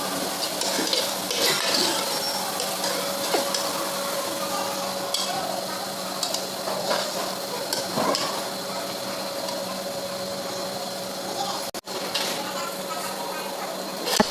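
Ginger garlic paste fries and is stirred in a pot for channa pulao, giving a steady dense sizzle with scraping stirs and occasional light clinks of utensil on metal, with no voices.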